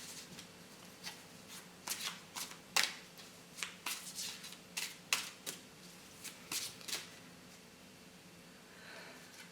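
Angel oracle cards being shuffled by hand, close up: a quick series of crisp riffles and snaps in an uneven rhythm, then fading to quiet.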